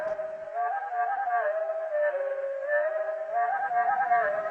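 A slowed-down veery song, a sustained, flutey, descending spiral of layered tones that rolls on continuously and steadily, fairly loud and with no voices.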